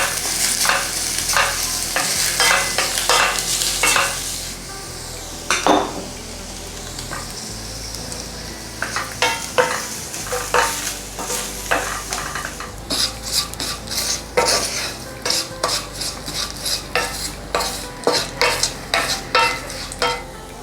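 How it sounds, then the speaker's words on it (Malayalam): A spoon stirs ground black pepper and fennel powder into hot roasted coconut for Kerala-style kadala curry, scraping the pan in repeated gritty strokes with a light sizzle and occasional utensil knocks, close and steady. "ചൂടോടുകൂടെ തന്നെ 1 ടീസ്പൂൺ കുരുമുളക് പൊടിയും 1 ടീസ്പൂൺ പെരിഞ്ജീരകം പൊടിച്ചതും കൂടി അതിലേക്ക് ചേർത്ത് കൊടുത്ത് മിക്സ് ചെയ്ത് മാറ്റി വയ്ക്കുക"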